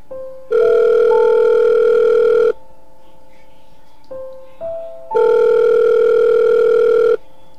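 In the video game Five Nights at Wario's, a telephone rings twice, each loud electronic ring lasting about two seconds, separated by a quieter pause with a brief tone.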